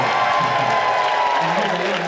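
An audience claps and cheers at a local county event, a steady dense wash of applause that holds at an even level for the whole stretch.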